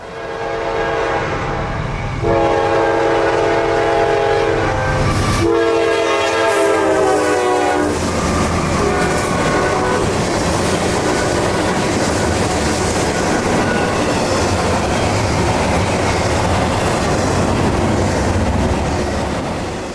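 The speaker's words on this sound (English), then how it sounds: "it's 215, our daily combo manifest and intermodal train from Chicago down to Atlanta" Norfolk Southern freight train 215, a combined manifest and intermodal consist running from Chicago to Atlanta on the CNO&TP, sounds loud, close horn blasts early on, then a steady rumble and clatter of passing railcars.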